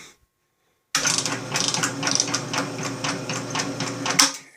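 A Delta/Ammco metal shaper fitted with a custom slip clutch starts up after a moment of silence and runs with a steady, rhythmic mechanical clatter of repeated strokes, close and fairly loud.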